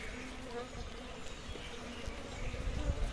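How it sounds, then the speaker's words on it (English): Wild bee colony in the Denawaka Pathakada area of Sri Lanka, heard during boxing of the colony: a dense, steady insect buzz that fills the whole stretch and swells slightly toward the end, with no talk. "boxing a bee colony in the Denawaka Pathakada area of Sri Lanka."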